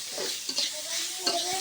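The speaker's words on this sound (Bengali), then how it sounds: "উস্তেটা আমি এরকম করে ভেজে নেব।" Bitter gourd strips sizzle steadily as they fry in a pan with turmeric and salt, with a few distinct scraping stirs of a spatula against the pan over the constant crackle.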